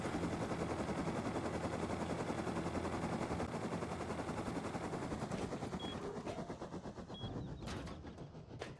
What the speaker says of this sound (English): We heard explosive ammo going off in the distance.